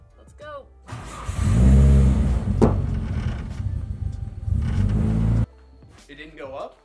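A KA24DE-swapped car idles and revs through a custom exhaust, a loud, steady engine drone running for about four and a half seconds, with brief talk before and after.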